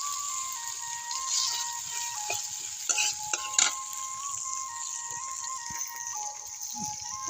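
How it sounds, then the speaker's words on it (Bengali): Onions, garlic and green chilies frying in a pan over a clay stove, a steady close sizzle with stirring scrapes and a couple of sharper clatters midway, no voices. "আমি কতগুলো পেঁয়াজ, রসুন, কাঁচামরিচ দিয়ে নিলাম।"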